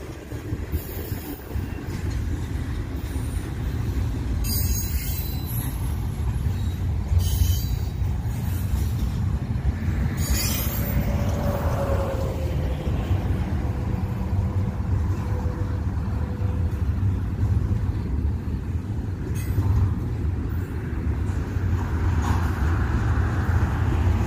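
Westbound Union Pacific freight train passing on a cold September day, a continuous rumbling roll of rail cars close by and steady throughout, with faint squeals and clanks over the din.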